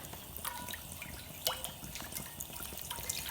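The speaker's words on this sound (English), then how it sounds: "put some water in there" Water pours and trickles into a skillet set on a STOK grill outdoors, a steady close splashing with a few brighter drips and splashes throughout.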